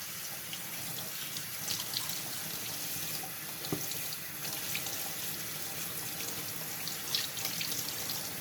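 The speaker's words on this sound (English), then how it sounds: "I'm going to pour over here just to drain out the hot water" Hot pasta water from angel hair spaghetti pours steadily into a sink, a continuous rushing splash with no pauses, close by and fairly loud.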